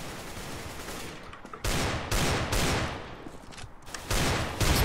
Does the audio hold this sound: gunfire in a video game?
yes